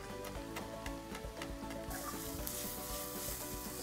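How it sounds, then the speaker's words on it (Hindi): Chopped onion frying in melted butter in a pan, a continuous soft sizzle with light stirring scrapes, fairly quiet and close, with no talking. "प्याज को जी अब भूनना है, अच्छे से ब्राउन करना है"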